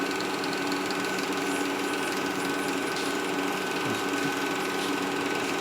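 A lathe spins an acrylic pen blank while it is wet sanded, giving a steady, dense whirring hum with a constant mechanical drone and no pauses throughout.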